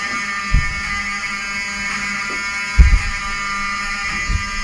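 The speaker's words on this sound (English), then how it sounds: "I want them to hear the fire alarm" A hotel building's fire alarm blares continuously, a loud harsh buzzing tone that fills the space, with occasional low thumps and handling knocks beneath it.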